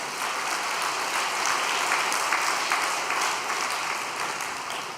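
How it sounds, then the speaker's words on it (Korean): A congregation at an overnight prayer service gives a round of blessing applause for a couple, a steady, full wash of clapping from a large crowd that holds evenly throughout without speech. "이 가정을 위해서 축복의 박수 한번 부탁드리겠습니다"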